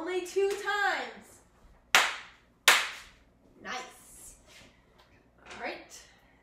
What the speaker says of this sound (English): And now I'm going to clap only two times